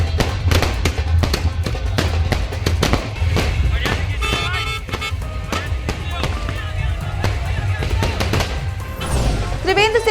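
Rapid crackling bursts of fireworks and firecrackers pop continuously over a noisy crowd at a political welcome rally in Uttarakhand, India, with a whistling rocket rising near the end.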